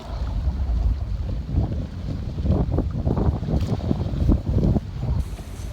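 Force 4 wind rushing over a sailboat under genoa alone between Samos and the Turkish coast, gusty buffeting on the microphone with water sloshing against the hull, no voices.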